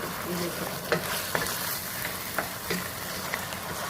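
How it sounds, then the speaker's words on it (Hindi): Sauce poured over chicken frying in a pan for a Thai cashew chicken dish sizzles loudly and steadily, while a spatula stirs with several light, regular scraping taps against the pan. "थोड़ा सा हम इसको मीडियम कर लेंगे और अब हम इसके लिए डालेंगे सॉस।"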